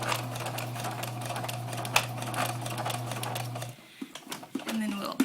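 A sewing machine stitches a hedgehog snuggle bag in a steady rapid whir that stops abruptly, followed by a few soft handling clicks and quiet talk.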